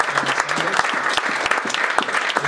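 Church congregation applauding at a French-language service, steady dense clapping close by for the whole stretch, with a voice briefly audible underneath.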